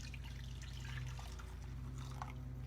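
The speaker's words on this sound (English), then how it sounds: "now I'm going to pour my red eye gravy" Red eye gravy poured into a skillet, a faint, steady liquid pour and trickle with soft dripping, heard alone without talk.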